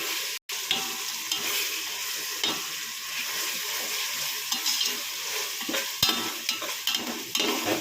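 Ginger garlic paste fries in oil for biryani under steady stirring, with a constant hissing sizzle and rhythmic scraping of a spoon across the pan and no speech.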